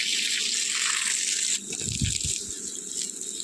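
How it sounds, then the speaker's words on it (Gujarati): Water splashes and gurgles into a container, with a brief rattle midway, then the flow continues more softly. "બધામાં પાણી મૂકવાનું આપણે"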